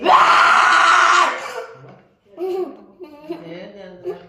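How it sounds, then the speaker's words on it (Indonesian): A young child lets out a loud, sustained scream for over a second, which fades into quieter childish vocal sounds and talking. "jangan teriak"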